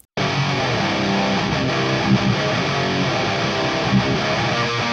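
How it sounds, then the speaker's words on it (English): A dense, distorted bass tone through a Bogner Uberschall amp into a Mesa cab plays continuously with a heavy amp growl, loud and steady from start to finish, no voices. "so the new tone is a Bogner Uberschall into a Mesa cab"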